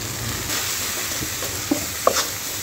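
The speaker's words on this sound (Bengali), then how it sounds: "ভালো করে নাড়াচাড়া করে নেব।" Spice paste with ginger, cumin, chilli, turmeric, coriander powder and salt sizzles softly in a pan for a pointed gourd curry, with a few faint scrapes and taps of stirring.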